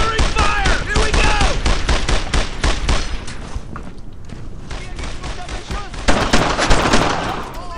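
Dense gunfire from the World War II video game Brothers In Arms: Earned In Blood, with rapid overlapping shots and bursts, loud and continuous, and a voice shouting over the battle noise.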